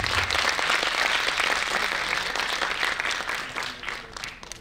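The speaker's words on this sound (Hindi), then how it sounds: "एक बार जोरदार तालियां बजाइए।" Loud, sustained applause from the audience at a felicitation ceremony, a thick wash of clapping that eases slightly toward the end.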